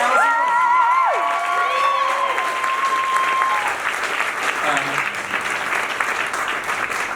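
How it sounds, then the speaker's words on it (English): Loud, sustained applause and cheering from a theater audience at a Broadway musical's final curtain call, with whoops and shouted voices rising over the dense clapping for the whole stretch. "another huge round of applause for Jennifer Ashley Tepper"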